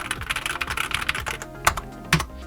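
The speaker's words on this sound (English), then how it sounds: "the sound is not terrible, but it definitely makes me very, very self-conscious about typing in shared or public spaces" Clicky typing on a compact 65% portable keyboard used with a Boox Note Max tablet, a fast steady patter of keystrokes with a couple of louder key hits near the end.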